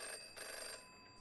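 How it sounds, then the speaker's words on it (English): A telephone rings in the visual novel game Red Embrace: Hollywood, bright bursts of a bell-like ring in pulses with short gaps, faint and alone without voices. "The phone interrupted my thoughts,"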